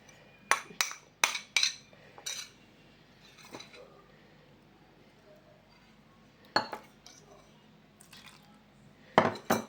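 Spoon clattering against a metal cooking pot while mixing dal, in bursts of sharp clinks and scrapes with quiet gaps between them, close up.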